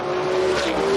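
Winged sprint cars racing on a dirt oval, a loud high engine whine sustained for a second with a slight pitch shift, close and unbroken, no voices.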